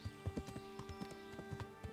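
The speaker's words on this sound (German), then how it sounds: "Also sind wir schon im Galopp?" A horse's hooves pound in a quick, regular galloping rhythm in Kingdom Come: Deliverance, close and fairly quiet over a steady background hum.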